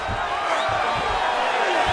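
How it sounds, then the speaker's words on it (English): A crowd roaring and cheering in the UFC 5 fighting game arena as two fighters scramble back to their feet, a steady wash of distant crowd noise with a commentator talking over it. "So the crowd absolutely loving it as these fighters work their way back to the feet"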